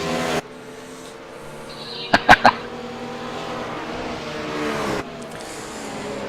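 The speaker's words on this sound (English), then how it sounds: "Christopher Osborne is now snuggling up to the back of Gary Hamilton's BMW again" GT3 race engines, including a BMW, drone steadily at Bathurst with a sustained harmonic whine that shifts in pitch, cut by a few sharp clicks midway and abrupt level changes.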